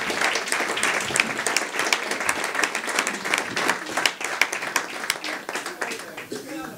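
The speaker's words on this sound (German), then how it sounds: "Kleinen Applaus für die Dame," Applause fills the room for a woman volunteer at a German-language football talk show, dense steady clapping from an audience lasting several seconds without a break.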